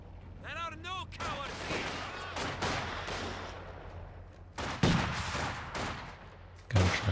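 Artillery barrage in the real-time strategy game Company of Heroes 2, shells booming and gunfire rattling in bursts, with sharp impacts near the end and a commentator talking over the battle.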